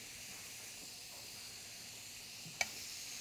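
Pineapple pieces sizzle faintly in caramelizing sugar in a pan, a soft steady hiss with a brief sharp clink or tap near the end.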